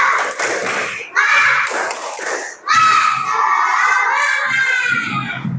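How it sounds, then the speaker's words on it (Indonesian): A class of Indonesian schoolchildren performs the tepuk semangat clapping chant, loud bursts of rhythmic claps mixed with shouted chanting voices, close and energetic, broken by short pauses. "Coba tepuk semangat. Tepuk semangat."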